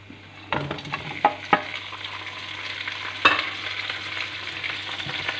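Beef for a korma sizzles steadily in a pan, with sharp scrapes and knocks of a stirring spoon against the pot early on, then a constant frying hiss.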